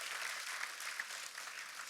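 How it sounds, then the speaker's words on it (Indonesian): Church congregation clapping warmly for God during a sermon, a dense, steady wash of applause heard somewhat distant throughout. "tepuk tangan yang meriah buat Tuhan kita"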